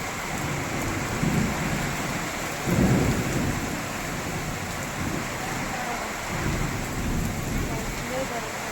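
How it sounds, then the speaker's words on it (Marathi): Heavy rain pours down steadily during a thunderstorm in Pune. Deep rumbles of thunder roll in several times over the dense hiss of rainfall, with wind mixed in. "जोरात पाऊस होतो बघा लय जोरात लय जोरात पाऊस पण कडकडतात आभाळ"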